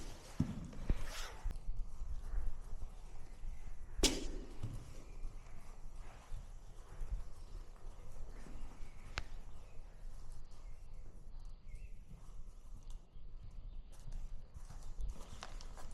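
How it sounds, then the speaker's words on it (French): A mare's hooves clip-clop in a steady walking rhythm, faint and somewhat distant across an outdoor riding area, with a couple of sharper knocks and low background noise. "Il fait de la musique avec ses sabots, Cannelle."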